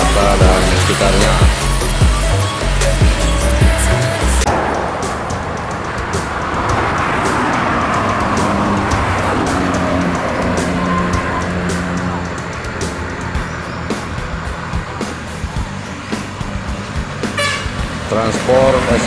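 An intercity bus in Batang Pamo, Sungai Lasi, Solok, departs for Jakarta with loud repeated horn toots over a heavy engine roar and roadway traffic noise, while people talk nearby throughout.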